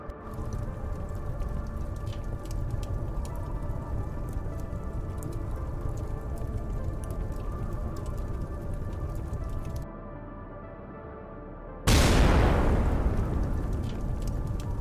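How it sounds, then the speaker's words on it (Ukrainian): A powerful detonation rips through a burned-out Russian military vehicle column after a steady hiss of background noise: one sudden, loud blast followed by a long, roaring decay. "Через деякий час відбувається дуже потужна детонація"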